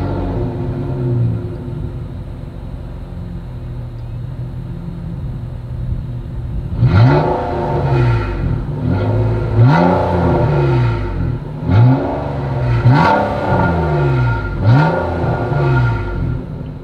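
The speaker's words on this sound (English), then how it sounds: "As always, here is that exhaust clip." A 2020 Nissan Maxima idles with a low steady rumble, then revs repeatedly in sharp bursts through its dual exhaust, loud and close, each rev rising and falling.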